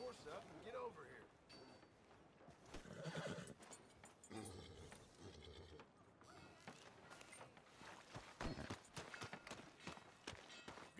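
A horse in the Red Dead Redemption 2 video game whinnies and snorts while its hooves clip-clop on the ground, with people talking over the game sounds.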